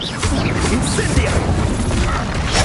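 Incendio fire spell cast during a Hogwarts Legacy battle: a dense burst of crackling, smashing magical effects that holds steady across the whole stretch, with a voice shouting over the combat noise.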